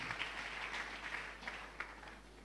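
A church congregation applauds in a dense, steady wash of clapping with a few sharper claps standing out, fairly faint and distant over a low hum.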